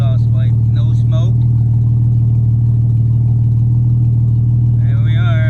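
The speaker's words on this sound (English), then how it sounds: "Running beautifully out the back exhaust pipe. No smoke." A 1960 Jaguar MK9 Saloon, mechanically refreshed, idles steadily from its rear exhaust, a smooth even low hum held throughout, with a voice talking over it at the start and again near the end.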